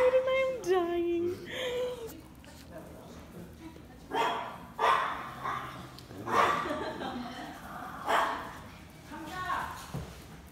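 Small, fluffy dogs at a dog cafe in Pyeongtaek give several short barks and yips spaced every second or so, mixed with people talking and laughing nearby.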